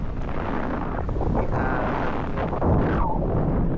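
Strong wind buffets and roars across the recording during parasailing at Boracay, a steady rushing blast.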